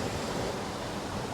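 Steady ocean wash and surf noise from aboard a sailboat on an Atlantic crossing, a continuous broadband rush with wind mixed in and no voices.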